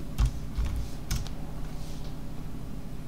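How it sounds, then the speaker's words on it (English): A few bursts of computer keyboard typing, entering a name into an image reference application, spaced within a quiet room hum, with no talking. "type the right name, that would help"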